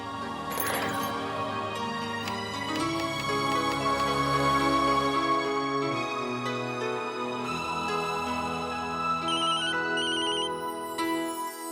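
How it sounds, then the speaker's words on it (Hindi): A steady electronic ringtone melody plays continuously and loudly for several seconds, its repeating tones layered over a sustained accompaniment, with no talking. "अनामिका को फोन करता हूँ, उससे माफी मांगना बहुत ही जरूरी है।"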